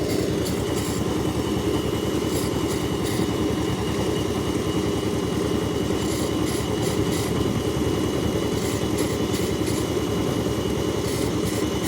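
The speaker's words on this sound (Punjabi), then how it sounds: "ਇਹ ਮਸ਼ੀਨ ਆਪਾਂ ਤੁਹਾਨੂੰ ਚੱਲਦੀ ਵੀ ਦਿਖਾਵਾਂਗੇ ਚੈਨ ਨਾਲ ਜਿਹੜੀ ਲੱਕੜ ਦਾ ਕਟਿੰਗ ਕਰਦੀ ਹੈ" A chain sawing machine cutting wood at a timber market in Abohar, its engine droning loud and constant with a steady pulsing rattle and occasional higher whining bursts, no voices.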